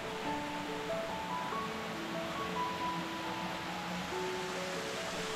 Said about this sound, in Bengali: এটিই সেই হোমস্টের পাশ দিয়ে ঝমঝম আওয়াজ করে বয়ে যাওয়া ঝর্ণা।